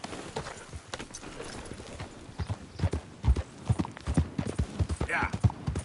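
A horse trots along, its hooves clip-clopping in a quick, uneven rhythm close by, with a voice briefly heard over the hoofbeats.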